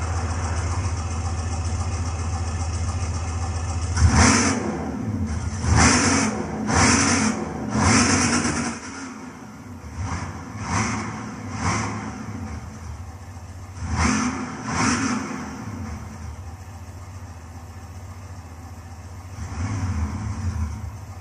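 A 1970 Plymouth AAR Cuda 340 Six Barrel roars through several sharp revving bursts in Gran Turismo 6 on the Nordschleife, loud and close, with a steady engine drone between the surges and quieter stretches late on.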